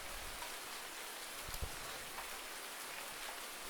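Rain falls steadily in Farming Simulator 19, a soft even hiss with a few faint drop taps, quiet and alone.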